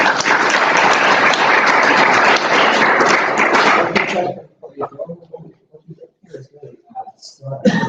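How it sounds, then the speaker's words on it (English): Loud, dense applause fills a symposium room for about four seconds, then stops abruptly, leaving scattered chatter and a few stray claps. "Let's get a round of applause."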